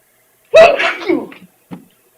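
A single loud, close sneeze bursts out in a meeting room, followed by a short, quieter exhale or sniff about a second later, with silence around it.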